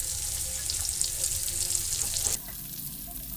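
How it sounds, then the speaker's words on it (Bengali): Paneer frying in a hot pan for a restaurant-style kadai paneer, a bright close sizzle that crackles steadily, then drops abruptly to a quieter simmer partway through. "পনির আমার ভাজা হয়ে গেছে"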